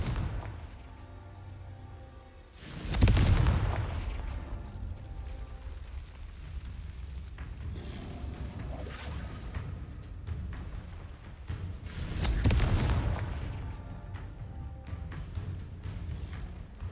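Two heavy Confringo spell explosions in the video game Hogwarts Legacy, each a loud booming blast that rumbles and fades, spaced well apart over a low background of game ambience.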